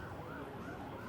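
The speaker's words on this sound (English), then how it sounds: "we can just hear a siren going off in the background there" A siren wails in the background on a deserted road in wartime Ras Lanuf, Libya, with ambulances racing past; a steady, faint distant tone over low rumbling traffic noise.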